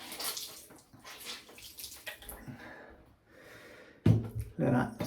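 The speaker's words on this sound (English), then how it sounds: "Use your hands to move the water about." Hands splash water onto the face during a shave, giving bursts of wet splashing and sloshing that grow louder near the end, with breathy snorts mixed in.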